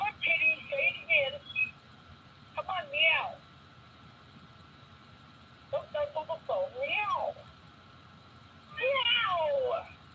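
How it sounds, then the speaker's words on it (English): A cat meows several times in short, rising and falling cries spaced over several seconds, fairly close, with quiet background and soft human voices between calls. "We want to hear the cat."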